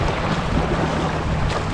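A budget fishing kayak surfs sideways across ocean waves, giving a steady, loud rush of water and wind buffeting close to the microphone, with no voices.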